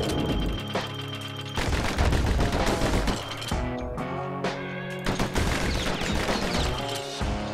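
Gunfire in the action video game Bastion comes in rapid bursts of loud shots and booms, broken by brief pauses, over a dense layer of game music and effects with no talking.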